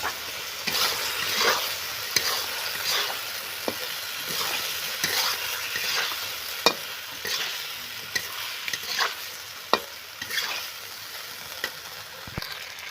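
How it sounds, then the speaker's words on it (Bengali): Spice paste frying in oil and stirred with a spoon, a soft continuous sizzle broken by repeated scraping clicks and taps of the utensil against the pan. "ওই তেলের মধ্যে আমি এখন যে পেস্ট করে রেখেছিলাম ওই পেস্টটা দিয়ে দেব"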